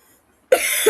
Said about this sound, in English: I'm suffering from the cough and cold